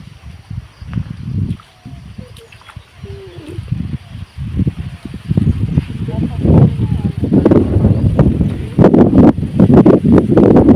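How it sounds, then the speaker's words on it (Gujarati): Strong wind gusting through heavy rain outdoors, a loud, continuous broadband rush that swells and builds toward the end, with voices talking over it. "પવન આવી રહે એટલો."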